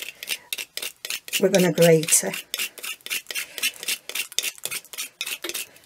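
Wax crayons, some still in their paper wrappers, rasped on a grater in quick, even strokes that run through the whole stretch, with a short bit of talk near the start.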